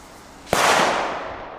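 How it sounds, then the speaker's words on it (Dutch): A single loud, close firecracker bang from powerful Belgian consumer fireworks, followed by a long, fading crackle-like tail, with no voices. "Die nieuwe knallers."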